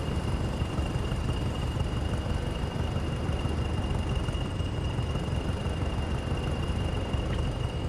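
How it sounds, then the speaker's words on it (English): A pair of Class 20 locomotives in a train simulator game growl steadily through a shed, a dense, unbroken engine drone with a thin high whine on top, loud and continuous, with no talk. "a couple of Class 20s that are grizzling their way through the shed"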